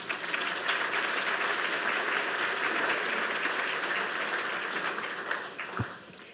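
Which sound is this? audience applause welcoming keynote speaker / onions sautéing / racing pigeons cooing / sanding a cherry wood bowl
audience applause welcoming keynote speaker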